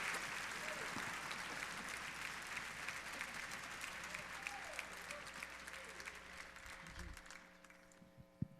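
A church congregation at a Baptist worship service applauds steadily, dense clapping sustained for several seconds with a voice speaking over it, fading out near the end.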